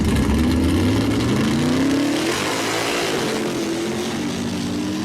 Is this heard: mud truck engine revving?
yes